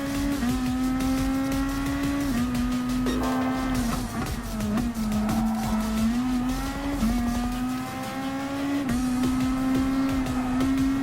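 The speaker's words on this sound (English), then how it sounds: "there's the Moto EUTEC GT-R coming in to overtake on my current position" GT500 race car engines in Gran Turismo Sport, a Nissan GT-R SUPER GT with a rival GT-R overtaking: loud, sustained high-revving engine whine with gear shifts and shifting pitch, close and continuous with no talk.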